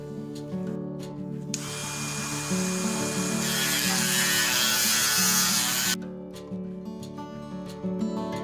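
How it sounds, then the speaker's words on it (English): A power tool grinds and sands a broken plastic sprinkler timer valve part, whining steadily for several seconds and surging in the middle, with brief tool bursts before and after. "I was kind of grinding, sanding, and test fitting"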